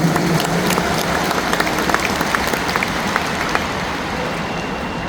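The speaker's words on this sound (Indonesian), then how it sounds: "Tepuk tangan untuk semua yang memilih hadir di sini." Sustained crowd applause fills a large stadium rally for a change movement in Jakarta, dense steady clapping with scattered sharper claps and cheering, loud and continuous throughout.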